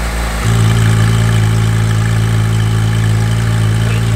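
A Porsche GT3 RS engine idles with a deep, steady exhaust rumble that steps up as the exhaust valves open after a brief quieter start, holding evenly throughout.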